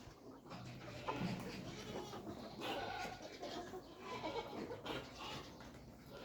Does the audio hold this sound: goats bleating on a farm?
yes